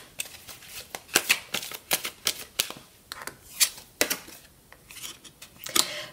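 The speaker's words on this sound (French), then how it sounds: "Je vais faire un tirage à 9 cartes avec le Amethyst Love." Amethyst Love tarot cards are shuffled and drawn close up, a series of crisp, quick papery snaps and flicks in an irregular rhythm, heard alone in a quiet room.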